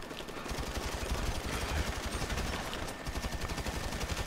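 Gunfire in GTA V Online, rapid bursts of shots blending into near-continuous automatic fire with a dense, crackling texture at moderate level and no talk over it.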